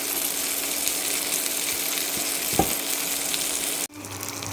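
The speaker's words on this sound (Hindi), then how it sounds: "इसे स्लो फ्लेम पे और थोड़ा पका लेंगे ताकि चिकन अंदर तक भी कुक हो जाए अच्छे से।" Chicken breast sizzles steadily in a pan over a low flame, with a constant close frying hiss and a few small clinks. The sizzle cuts off abruptly near the end.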